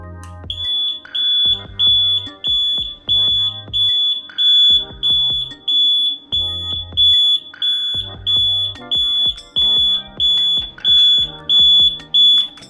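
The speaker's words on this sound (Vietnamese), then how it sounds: "mình phải thực hiện tín hiệu kích là 40 lần thì còi của mình nó mới báo động" The alarm buzzer of a DH48J-8 electronic counter beeps loudly and repeatedly, sounding in regular pulsed bursts over the whole stretch with no voices.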